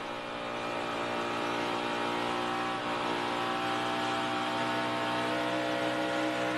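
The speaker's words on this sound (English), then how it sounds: "Let's listen to his throttle work." Onboard race car engine from Joey Coulter's car in a 2011 race, a loud, continuous high-pitched drone that holds fairly steady under throttle throughout.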